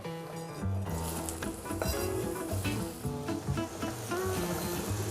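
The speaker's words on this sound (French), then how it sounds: "Je profite que mes pommes sont en train de compoter dans ce mélange beurre et sucre" Sliced apples frying in a pan of caramelizing butter and sugar, a loud steady sizzle with bubbling and occasional stirring scrapes, close up and without talk.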